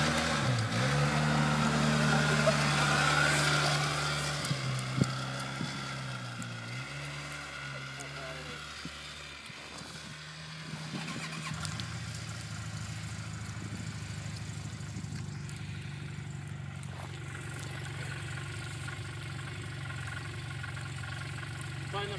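A small vehicle's engine idles steadily without driving off, its low hum shifting pitch slightly as it is revved, running continuously under people talking nearby.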